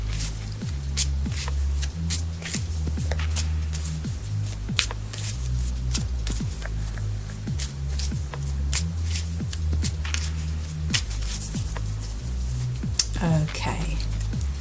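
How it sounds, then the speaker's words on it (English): Tarot cards being shuffled by hand, a steady run of soft riffling snaps and flicks repeating close by over a low hum. "I'm going to draw the cards after I've shuffled them"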